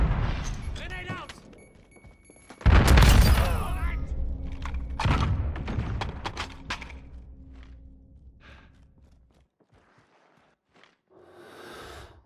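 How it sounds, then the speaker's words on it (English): Grenade explosion in the Modern Warfare video game during a 2v2 match: a sudden loud boom with a sustained rumbling tail, followed by scattered gunfire, thuds and footsteps, with voice callouts around it. "Grenade out."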